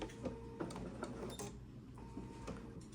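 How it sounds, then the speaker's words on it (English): A home embroidery machine raises its needle and presser foot with a short burst of quiet mechanical whirring and clicking, heard up close. "it brings the needle up and the foot up so I can pull my threads"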